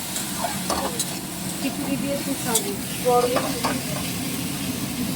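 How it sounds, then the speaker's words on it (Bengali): Potatoes sizzle steadily in a hot pan with occasional stirring, while voices talk faintly over the frying. "আলু ভাজা হচ্ছে"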